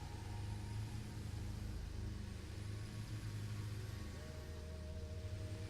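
A video game car drives through small vegetation with a steady, rumbling mid-pitched engine drone, loud and continuous. The engine note shifts upward near the end, with no speech.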